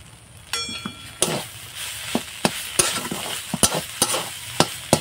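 A boiled potato, broken up by hand, fries in oil in a wok and gets stirred, with a steady sizzle broken by repeated sharp scrapes and clanks of the spatula against the pan.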